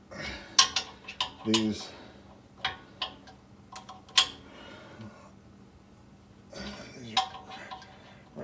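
A Harbor Freight ratchet wrench tightens brake bolts on a Toyota Corolla during a rear drum-to-disc conversion, giving scattered metallic clicks and clanks in short bursts, with a brief spoken word in between.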